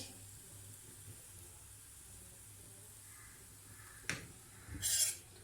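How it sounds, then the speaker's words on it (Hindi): Methi paratha, a wheat flour flatbread with fenugreek leaves, sizzles faintly on a hot pan as ghee is spread over it, a low steady hiss with a brief sharp crackle and a louder sizzling burst near the end. "अब मैं इसके ऊपर घी लगा दूंगी"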